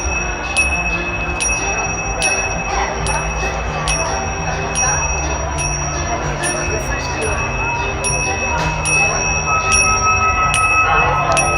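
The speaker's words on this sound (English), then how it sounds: "when you are hearing the sound of the bell, please follow the person in front of you back to the gate of the heaven" A bell chimes in repeated bright strikes, roughly one or two per second, through a busy indoor event with murmuring voices and background noise.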